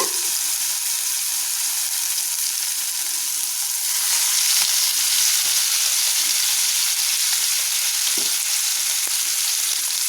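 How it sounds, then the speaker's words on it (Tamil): Ghee-coated chicken legs frying on a hot tawa, a steady loud sizzle that swells after the pieces settle, with a few faint clinks, close and without talk. "இப்போ நம்ம இந்த சிக்கனை தவாவில் வச்சிடலாங்க."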